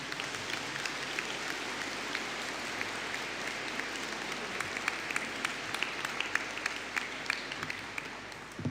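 Sustained applause from a graduation ceremony audience, dense and steady clapping throughout, moderately distant in a large hall.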